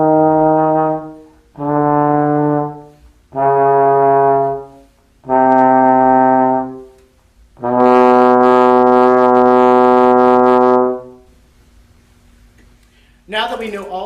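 Brass slide trombone sounding five separate sustained notes through its slide positions, four short evenly spaced tones followed by a longer held final note, played clearly and alone.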